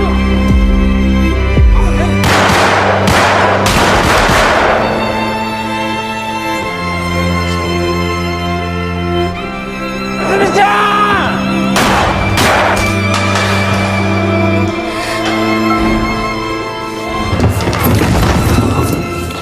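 Gunfire during a shootout in a yakuza revenge film comes in three clustered bursts of sharp shots and crashes, layered over a loud, sustained musical score.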